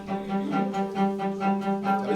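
Cello playing a well-known melody in a short sustained bowed phrase, soft and resonant, with notes swelling and changing in a gentle rhythm, heard alone.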